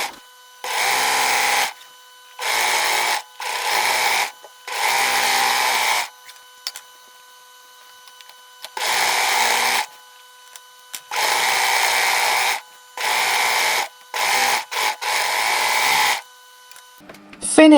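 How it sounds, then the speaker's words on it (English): An overlocker finishing the fabric edges of a cushion cover runs in repeated bursts of fast, even whirring, each lasting one to two seconds and separated by short silent pauses, close and clear, with no talking. "Finish both sides off with a zigzag stitch on your sewing machine or an overlocker."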